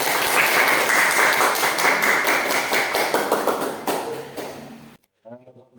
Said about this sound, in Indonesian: Silakan tepuk tangan buat guru semua.